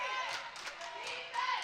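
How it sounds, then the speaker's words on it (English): A basketball crowd at a women's college game between Emerson and Endicott claps in quick, uneven bursts, fairly faint and distant, with a commentator's voice running over part of it. "This crowd is getting loud."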